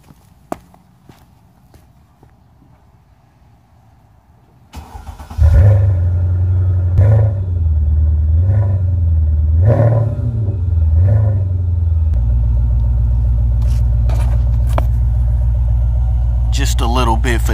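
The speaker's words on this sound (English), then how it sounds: "And now, the part we all been waiting for, the cold start." A Mercedes CL550 with a modified exhaust cold-starts after several seconds of near silence, cranking into a loud, deep burst with a few rising revs, then settles into a steady, heavy, rumbling idle close by.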